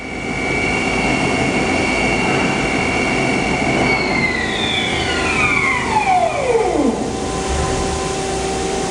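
A Haas SL-40T CNC turning center spindle spins at high speed with a loud, steady harmonic whine. The pitch then glides sharply downward as the spindle slows, over a constant machine hum with no talking.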